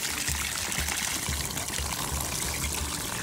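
Water runs from a pool pump outlet in a steady splashing pour, a continuous trickling stream heard close with no talk.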